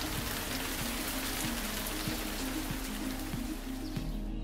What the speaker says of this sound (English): the way that the rain falls through the leaves, you know, sliding down the trunks of trees